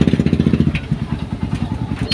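Motorcycle engine idling close by, a rapid, even, loud putter of firing pulses that loosens slightly toward the end.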